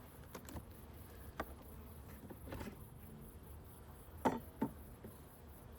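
Honey bees buzz faintly around an open Langstroth hive on a summer day, with a soft steady hum and a few sharp close passes and light taps standing out.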